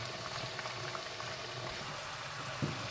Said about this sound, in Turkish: patateslerimiz bu renge dönüşene kadar kızartalım